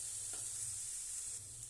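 Spices with turmeric gently sautéing in a pan over a low flame, a soft steady sizzle with faint stirring, quiet and continuous without any talking.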